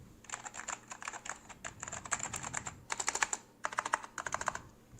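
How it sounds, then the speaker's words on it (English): Rapid typing on an Apple Standard Keyboard with Alps key switches, a steady run of crisp clicking keystrokes with two brief pauses, close and alone with no talk. "this is the wonderful Apple standard keyboard"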